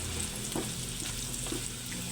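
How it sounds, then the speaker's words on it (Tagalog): Carrots sauté in a pan with spices for sweet and sour pork, giving a soft, steady sizzle close by with a couple of faint stirring clinks and no talk. "Idala na natin sa gisa guys yung ating carrot."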